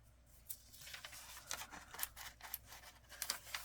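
Scissors snip through paper at a needlework table in a quick irregular run of close, crisp cuts, fairly quiet, with no one speaking.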